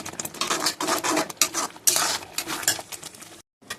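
A spoon scrapes and stirs masala around a pan for chicken curry, making repeated close rasping strokes with faint sizzle beneath, ending in a brief silence.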